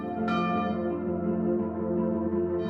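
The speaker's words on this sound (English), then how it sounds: "The bell is about to ring again." A bell rings with a sharp strike followed by a long, loud resonant tone that sustains steadily on its own, with no voices.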